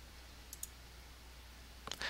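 Mouse clicks while setting up a business letter in Microsoft Word: a faint single click early, then a quicker pair of clicks near the end, close and quiet.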